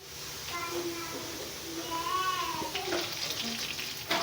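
Potato fries bubble and sizzle in hot oil as they turn golden brown, a steady close frying hiss with soft scraping and faint voices in the background.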